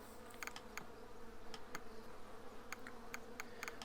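A steady, droning hum of massed bees buzzes through the bee colony simulation game Hive Time, moderately loud and continuous, with scattered soft interface clicks ticking over it and no voices.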